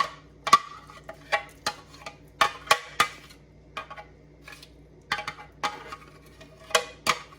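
A metal spatula knocks and scrapes against a pot while stirring clam chowder with clams, celery, potato and leeks, sharp irregular clinks roughly every half second, close and alone.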